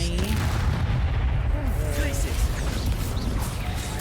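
A Confringo fire spell detonates in Hogwarts Legacy, a heavy booming blast with rumbling low end and crackling debris, loud and close, with voices talking over it.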